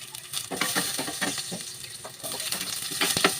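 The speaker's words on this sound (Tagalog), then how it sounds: "lagyan natin ng mantika yung kawali tapos igisa natin yung bawang" Garlic sautéing in cooking oil in a pan, a steady crackling sizzle broken by scraping stir strokes at an even pace, close and moderately loud with no talking.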